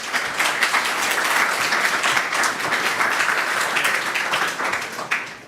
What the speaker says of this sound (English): Give a warm applause for Johan Pop.